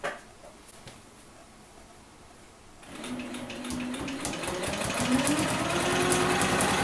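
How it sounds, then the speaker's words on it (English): A sewing machine quilts a simple feather design on a sampler, starting after a quiet stretch with a soft, rising whir that grows steadily louder and continues to the end. "I'm going to start by stitching a feather that has a very simple spine."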